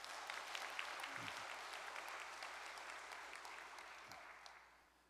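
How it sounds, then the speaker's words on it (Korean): An audience at a church anniversary gathering claps steadily, a dense, moderately distant round of applause that fades out toward the end. "여기 또한 감사의 박수를 보내십시다."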